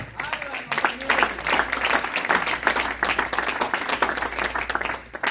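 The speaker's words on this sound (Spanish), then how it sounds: "Denle fuerte aplauso al Señor" A crowd claps loudly and continuously at a church service, dense overlapping hand claps close by with a few voices mixed in underneath.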